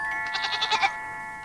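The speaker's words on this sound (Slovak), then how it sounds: "To je ona. To je moja koza." A goat bleats in a rapid wavering series of five or six pulses lasting under a second, moderately loud against a steady high electronic hum, then fades.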